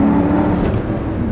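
A big Porsche luxury SUV launches hard in sport mode, its engine a loud, close, steady roar with a turbo spooling up, over about a second and a half with no talking.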